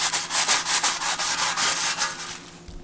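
Metal ARC part being scuffed with WD-40 in one direction, a series of about ten even, rhythmic rubbing strokes, close and moderately loud, with no talk.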